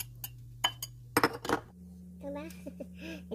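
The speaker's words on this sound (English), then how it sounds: "ihalo ko na yung mixture ng 1 cup na tubig tsaka yung isang pakete ng burrito mix" Utensil scraping and clinking against a pan while water and a packet of burrito mix are stirred into cooking meat, a few sharp knocks early followed by a softer bubbling sizzle.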